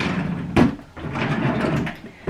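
An office desk drawer sliding open, a short bump and scrape followed by a brief rolling slide, close and fairly loud.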